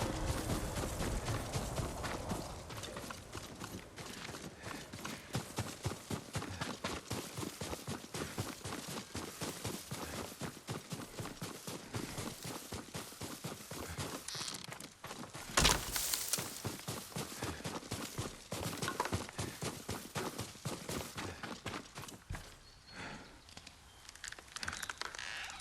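Horse hooves from Ghost of Tsushima, a steady rhythmic clopping of walking steps that carries evenly throughout with no talking.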